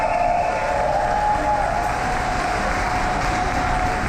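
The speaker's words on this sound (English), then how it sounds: "So one more round of applause for Mayonnaise." Steady, dense applause from an audience at a drag show event, a continuous wash of clapping at even loudness with no voices standing out.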